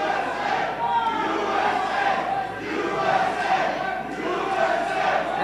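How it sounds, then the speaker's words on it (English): A wrestling arena crowd cheers and shouts in a steady, dense roar that swells and dips slightly, with no single voice standing out. "They're cheering for Aaron Corbin."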